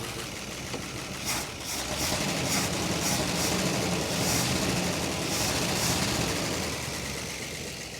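The Mopar big block in a 1966 Crown Imperial, abandoned for 21 years and carrying a small exhaust leak, idles steadily with a loud, continuous rumble and a slightly uneven, knocking pulse throughout.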